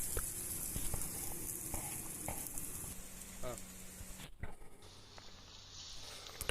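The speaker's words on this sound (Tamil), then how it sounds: "வெங்காயம் வந்து சூப்பராக வதங்கிட்டுருக்கு" Onions and mint sizzle softly while frying in a pan for mint egg poriyal, a quiet, steady crackle with occasional stirring and some talk in the background.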